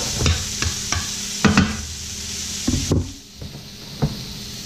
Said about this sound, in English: once this is done sauteing